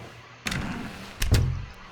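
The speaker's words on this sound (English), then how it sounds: "he entered the door on his left" Door opening in The Stanley Parable video game: a soft latch thud, then a second louder knock and a low rumbling swing, close by, with no talk.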